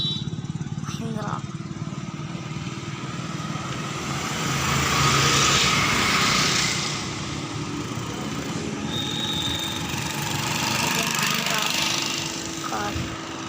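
A Mahindra car's engine runs steadily for several seconds with a continuous drone that swells louder twice, along with faint knocks and outdoor background noise.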